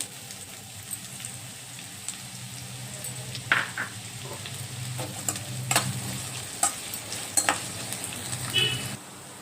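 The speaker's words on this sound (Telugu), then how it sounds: "నూనె వేడెక్కిందండి ఉల్లిపాయ ముక్కలు వేసుకొని వేయించుకోవాలి" Onion pieces fry in hot oil with a soft, steady sizzle, while a spoon stirs through the pan with scattered scrapes and clinks that become more frequent toward the end.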